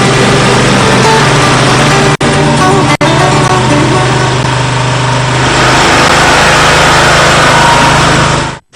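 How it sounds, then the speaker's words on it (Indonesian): Loud, steady motorized whirring and grinding of a modified coconut grating machine shredding coconut flesh, running continuously, briefly cutting out twice, then stopping at the end. "daging kelapa kemudian diparut dan diperas hingga menjadi santan yang kental dengan bantuan mesin"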